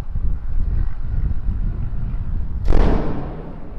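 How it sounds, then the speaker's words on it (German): A door in a Hurghada apartment slams shut from a draft through open windows, a single loud bang near the end over a windy, rumbling background. "Ja, die Türen knallen, wenn die Fenster offen sind."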